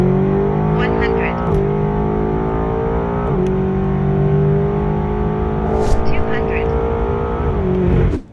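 A tuned 765 hp stage 2 BMW M8 Competition convertible accelerates hard from 100 to 200 km/h, its engine droning loud and rising in pitch, broken by a few brief dips at gear shifts.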